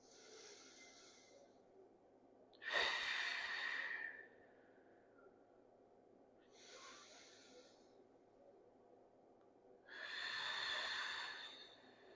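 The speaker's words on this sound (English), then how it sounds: "Taking 2 nice deep breaths here." Slow, deep breaths during a seated yoga twist, close and soft, with two full inhale-exhale cycles of airy, rushing breath separated by quieter pauses.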